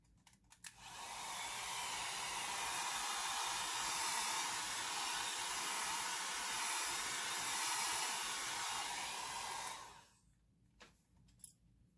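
A hair dryer blows on an alcohol ink painting, a steady close whooshing roar lasting about nine seconds, switching on and off with faint handling noises around it.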